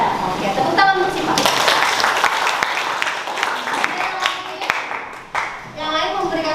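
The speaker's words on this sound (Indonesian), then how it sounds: "Oke, tepuk tangan untuk Sipa." A classroom of students applauds a classmate with a brief burst of scattered clapping at moderate loudness, while voices talk over it throughout.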